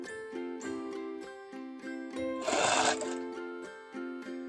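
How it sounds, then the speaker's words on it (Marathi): A sewing machine running press stitching along a seam of a katori blouse, its motor whirring in repeated short bursts with a louder rattling stretch in the middle, close and alone. "आता ह्याच्यावर आपण प्रेस शिलाई मारूया."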